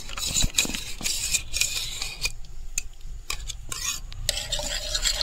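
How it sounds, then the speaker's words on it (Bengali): Yogurt being stirred into medium-warm milk to make sweet mishti doi, with close, steady scraping stir strokes that sometimes pause and resume, and no talking. "খুব ভালো করে মিশাই।"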